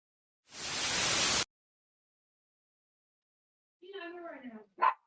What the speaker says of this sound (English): the family dog barking.